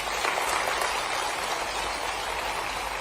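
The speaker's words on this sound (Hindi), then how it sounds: "इसलिए मुख्यमंत्री जी का एक बार जोरदार ताली बजाकर अभिनंदन करते हैं।" Steady, dense applause from an audience at a regional industry investor conclave in Rewa, welcoming the Chief Minister, sustained and even throughout without pause.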